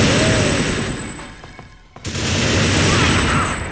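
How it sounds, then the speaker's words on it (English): Gunfire aimed at the player in the PS2 shooter TimeSplitters, loud dense bursts of shots filling the clip with a brief gap near the middle before the firing resumes. "Something is trying to shoot me."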